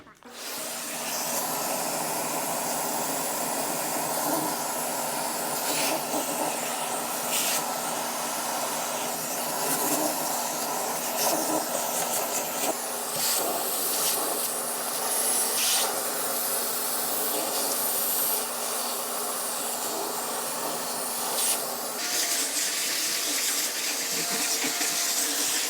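A vacuum cleaner runs continuously while cleaning up a garage door track, giving a steady hissing whine that holds at a constant level from start to finish, close to the microphone, with small shifts as the nozzle moves.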